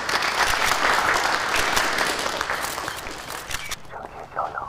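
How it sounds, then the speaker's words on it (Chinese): An audience gives a speaker a welcoming round of applause, dense clapping that thins out toward the end as a voice speaks. "掌声欢迎。"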